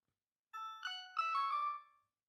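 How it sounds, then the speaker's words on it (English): Steven's phone ringtone from the Steven Universe cartoon, a short bright electronic melody of a few chiming tones rising and sustaining clearly against silence. "using Steven's ringtone as a stepping stone to build a melody"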